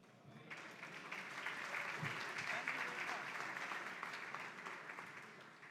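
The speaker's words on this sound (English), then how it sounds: "Another round of applause." A room full of people claps steadily, sustained applause rising and holding for several seconds before easing slightly.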